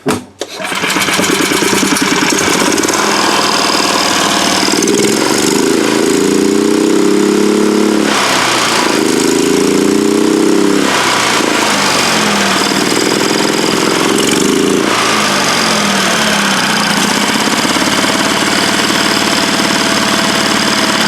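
A Predator 420 engine fitted to a Club Car DS golf cart runs loud and close with a rough, rapid chugging idle, rising in a few short surges as the throttle is tapped, then settling back.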